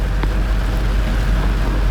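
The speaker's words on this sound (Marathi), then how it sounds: "जाम जोरातच पाऊस चालू आहे" Heavy rain during a night drive in a truck, a loud continuous roar of rain and engine rumble filling the cab, steady and close with no talk.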